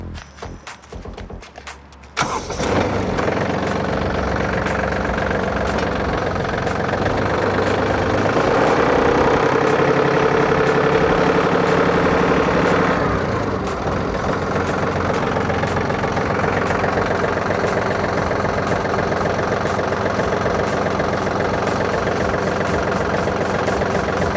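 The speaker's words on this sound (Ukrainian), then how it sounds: "Дана модель трактора укомплектована трьохциліндровим двигуном Янмар" A Yanmar AF-224 Japanese mini tractor with a 1.4-litre three-cylinder diesel engine runs steadily under load, a loud, close, continuous knocking diesel drone that starts abruptly after a brief scrape and holds for over twenty seconds.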